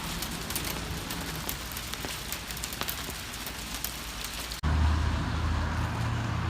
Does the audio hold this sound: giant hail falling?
yes